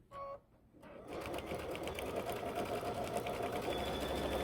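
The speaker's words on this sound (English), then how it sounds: "even though we're stitching through lots of layers, this foot is making it so simple" A domestic sewing machine stitching through several quilt layers with a walking foot, a brief start then a steady, close, fast mechanical whirr running continuously without talk.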